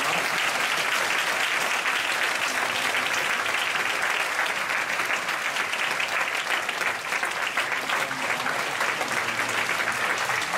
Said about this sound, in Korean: 우리 유모차 부대를 위해서 힘찬 박수를 한번 드리겠습니다.